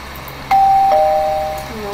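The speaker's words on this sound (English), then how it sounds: "Bell." A single doorbell chime from the video game Minecraft rings out clearly after a short pause, a bright tone that sustains and slowly fades.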